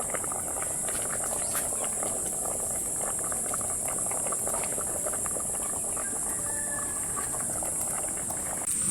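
Pot of mung beans with coconut milk, squash and dried fish boiling, a steady close bubbling and simmering hiss running throughout with no talk.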